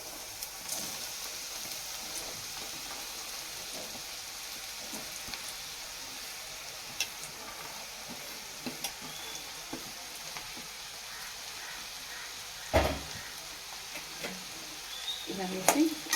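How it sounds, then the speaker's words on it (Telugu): Onions frying in a pan for Chennai-style vada curry, giving a steady, soft sizzle throughout with a few faint clicks and scrapes of stirring. "ఈ విధంగా ఉల్లిపాయలు ఈ విధంగా వేగాలి"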